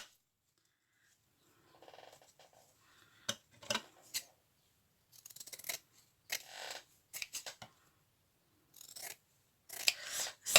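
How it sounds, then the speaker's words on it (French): Scissors snip through paper scraps and fabric for a handmade birthday card, in short separate bursts of close, crisp cutting with quiet pauses between and no talk. "Donc il me faut mes ciseaux."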